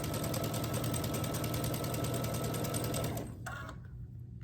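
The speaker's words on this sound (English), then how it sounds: "Sew down the long side." Sewing machine stitching a Grinch quilt block, a rapid steady mechanical whir close by that runs evenly for about three seconds, then stops, leaving a quiet room.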